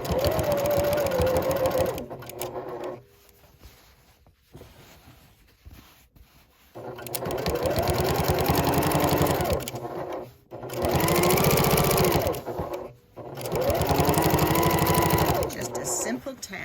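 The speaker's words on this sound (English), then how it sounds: "I'm going to place the inside edge of my presser foot on that line, so I'll be stitching just a little bit to the left of it" A sewing machine stitches a seam on an upcycled denim jeans tote bag, running in several loud, steady bursts with short pauses between them; speech is present alongside.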